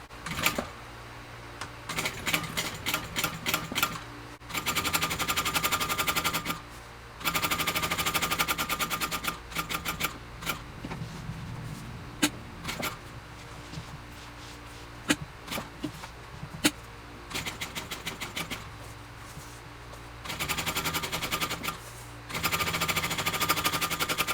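A sewing machine stitches a box onto backpack fabric, running in several close, steady bursts with short pauses between them.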